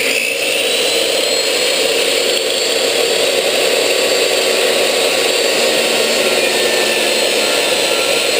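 A power saw blade slices through a wooden piece in a home workshop, giving a loud, steady, continuous whine with broadband roar that holds at even level throughout, no talk over it.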